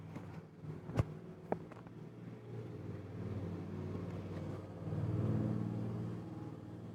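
Car engine in a video game drones along at a steady cruise and rises slightly toward the end, with a couple of brief clicks near the start.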